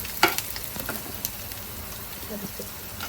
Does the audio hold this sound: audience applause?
no